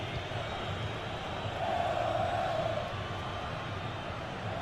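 Football crowd in a video game of a CONMEBOL Libertadores cyber football match, a steady roaring wash of stadium noise that swells slightly in the middle, with no one speaking.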